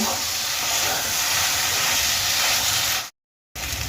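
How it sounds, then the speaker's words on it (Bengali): Spiced potato filling fries in a hot pan with a loud, steady sizzle and hiss that cuts out sharply for a moment near the end, then resumes, with no talking. "মশলার সঙ্গে আলু খুব ভালো করে আমি মিশিয়ে নিয়েছি এবার আলু কিছুক্ষণ আমি ভেজে নেব"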